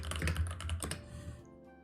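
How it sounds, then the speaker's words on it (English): Rapid typing on a computer keyboard placed right next to a microphone, a quick close-up run of crisp clicking keystrokes that stops abruptly, leaving faint room hum. "Sorry if the keyboard's really loud."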